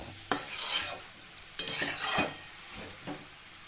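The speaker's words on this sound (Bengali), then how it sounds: "এবারে শুধু ভালো করে একটু ফ্রাই করে নেবো।" Chicken mince and vegetables for momo filling are stir-fried in a pan. Scraping strokes of a spatula come in short bursts over a faint sizzle. The sound is fairly quiet and close, with no talking.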